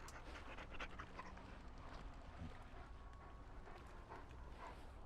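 A dog in the Dragon Age: Origins video game pants steadily and close up, with soft whimpering mixed into quick breaths over a low ambient wind bed.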